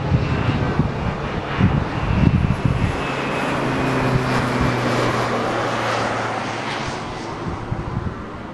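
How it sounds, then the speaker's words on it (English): A low-flying crop duster airplane passes with a loud propeller-engine roar that swells, then settles into a sustained drone, with gusty wind noise at the start. "showing you a crop duster, which is an airplane that goes really low for the"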